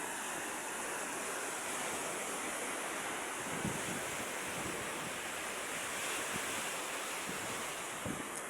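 Strong ocean waves at high tide crash and surge continuously along a rocky shore, a loud roaring wash with heavier thumps of breaking surf and gusty wind buffeting the microphone.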